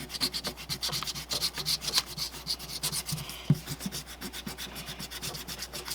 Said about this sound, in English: after we erase all of this. And I'm going to use my bunny eraser